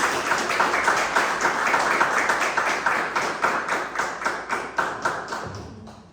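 A church congregation claps in a steady rhythmic beat, loud and close, gradually thinning out toward the end.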